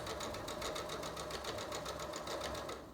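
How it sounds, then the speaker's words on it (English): A home sewing machine runs steadily while stitching pajama pants fabric up to two pins, a fast, even mechanical whir with rapid repeating needle beats, close and continuous, with no talking. "I'm gonna sew to the 2 pins"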